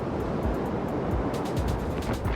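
Rough ocean surf pounds below cliffs on Iceland's west coast, a steady, loud broadband roar of crashing waves with gusting wind buffeting the microphone throughout and no voices.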